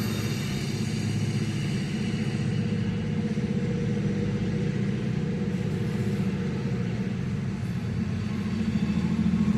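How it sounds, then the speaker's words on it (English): Diesel locomotive engines labor hard while railfanning on a 97-degree hot day, a steady, loud low-frequency engine drone with rumbling mid tones running continuously throughout, no talk. "Listen how hard them engines are working."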